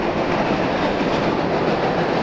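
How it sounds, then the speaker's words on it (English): A freight train with cattle cars rolls by at Harpers Ferry, a loud, dense rumble with steady clickety-clack of wheels on rails and no voices. "And there's a train going by."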